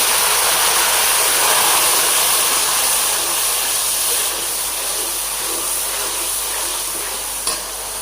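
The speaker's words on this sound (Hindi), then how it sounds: "इधर हमारे प्याज ब्राउन हो चुके हैं, थोड़ा सा पानी डालेंगे।" Water poured onto browned onions in a hot pan for kofta biryani bursts into a loud, steady sizzle and steamy hiss that gradually eases, close up with no talk.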